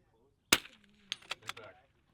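A .22LR rimfire rifle shot at a PRS rimfire match: one sharp, close crack, then a faint distant hit on a steel target about half a second later, followed by a few softer clicks and knocks and brief quiet talk.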